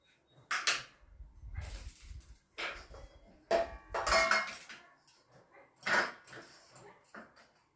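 Knife and pot clatter while potatoes are cut in a home kitchen, a series of separate sharp knocks and scrapes, fairly close with quiet gaps between them.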